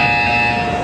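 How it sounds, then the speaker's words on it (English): An electronic buzzer from the video game Portal 2 sounds as a loud, steady tone with fixed pitch, heard alone for under a second. "You will hear a buzzer."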